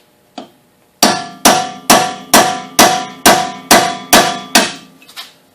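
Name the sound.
hammering a chisel to open up an axle nut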